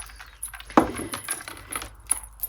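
Small metal charm dangles on vintage book journals jingle and clink lightly, with one sharper tap and scattered faint rattles, close and quiet.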